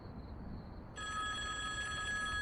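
A telephone ringing, a steady electronic ring tone that starts about a second in over a faint background hum, continuing at the same level to the end with no talk.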